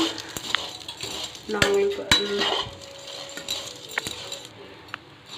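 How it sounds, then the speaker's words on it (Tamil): Vermicelli being roasted in ghee in a pan for semiya sago payasam, with steady stirring scrapes and light clinks of a utensil against the pan over a soft sizzle, close and moderately loud. "இதை வந்து நல்லா அந்த நெய்யில் வந்து ரோஸ் பண்ணி எடுத்துக்கலாம்"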